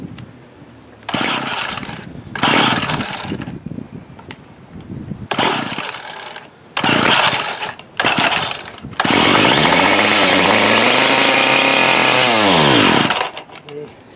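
A 2002 Ryobi 765R two-stroke engine on a freshly fitted carburetor fires up in repeated loud bursts, sputters out, then revs hard for several seconds before stalling again; a voice talks between attempts.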